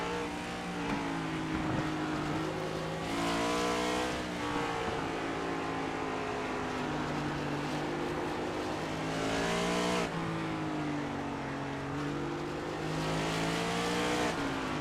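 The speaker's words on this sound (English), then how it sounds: "It's interesting to hear them how they play with the throttle in order to get these cars up and moving" Simulated race cars in the iRacing game at Circuit of the Americas accelerate through corners, their engines rising and falling in pitch as the throttle is worked. The roar is continuous and fairly loud, with no talking.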